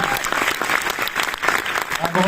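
A cinema crowd at a film preview in Nantes claps steadily and loudly, with a voice speaking over the applause near the end.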